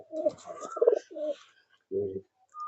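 Racing pigeons in a loft coo in several short, throaty bursts close by, with brief pauses between calls and a faint higher chirp near the end.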